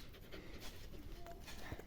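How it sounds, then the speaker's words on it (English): A small dog pants softly in a workshop during a monitor teardown, quick steady breaths close by but faint, with a brief whimper near the end. "What do you want, little doggy?"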